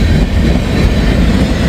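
Freight train rolling past in steady rain, a dense continuous rumble and wash of wheel noise at close range with no talking.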